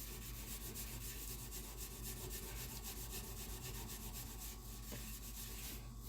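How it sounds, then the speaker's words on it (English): A stainless steel stove top being lightly scrubbed, a steady close rasping rub in quick repeated strokes, continuous and fairly quiet with no voices. "you can just lightly scrub"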